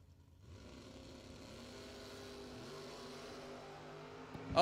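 Drag race cars, a small-block 1969 Dodge Dart and a Corvette Roadster, idle at the line with a low steady engine rumble that builds, then a sudden loud roar as they launch at the end.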